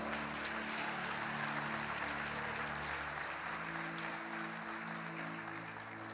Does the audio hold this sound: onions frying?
no